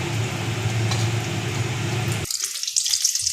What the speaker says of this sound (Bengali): এবার একদম লো স্টিমে আমি এটা আস্তে আস্তে ভাজা করব